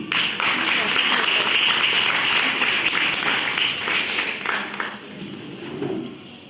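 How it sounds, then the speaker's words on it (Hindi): Audience applause at a Hindi-language event on women's education, a dense steady wash of many hands clapping that holds loud for several seconds before thinning out toward the end. "उमेश चंद्रा जी की जोरदार तालियां होंगी"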